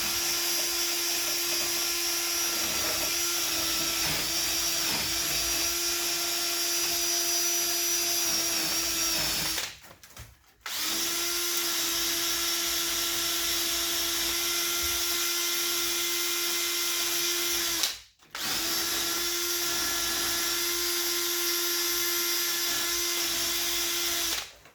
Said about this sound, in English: if you don't have a wire brush on a drill end, you can actually just get a wire brush and make sure you clean your brake carrier